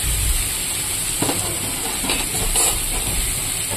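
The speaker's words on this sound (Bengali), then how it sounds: "এবার আমি এখানে কেটে রাখা মূলোগুলো দিয়ে দেব।" Radish pieces added to hot oil with bay leaf and nigella seeds give a steady, close hiss and sizzle that holds evenly throughout, with a few brief stirring clatters.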